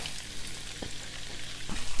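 Onions and garlic for ratatouille cooking in a pot with a steady, soft sizzle and a couple of faint stirring knocks, close by, with no voices.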